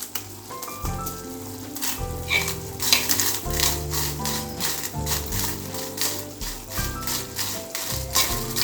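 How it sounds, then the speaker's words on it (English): Dried red chillies crackle and sizzle as they roast with browning methi seeds in a hot pan. A dense, steady frying hiss is broken by close stirring scrapes and rattles, with a low hum running underneath. "add dried red chillies."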